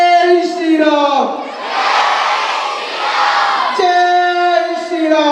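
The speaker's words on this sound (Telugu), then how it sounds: "చప్పట్ల బదులు మనం జై శ్రీరామ్ అంటే చాలా బాగుంటుంది" A crowd at a weekly gathering at AMR Gardens, Kompally, chants "Jai Shri Ram" loudly in unison instead of clapping, a single voice leading before the group answers, with a surge of collective shouting between the sung lines.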